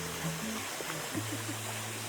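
Water flows steadily in a stream on a farm, a constant rushing wash with a low hum running beneath it and no talking.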